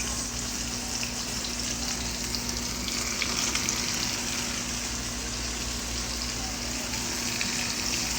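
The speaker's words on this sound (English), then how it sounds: "now we're gonna put this in the fryer" Steady, crackling sizzle of fish frying in a deep fryer of hot oil, even and unbroken throughout, with no voices.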